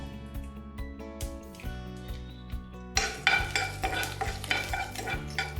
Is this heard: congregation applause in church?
no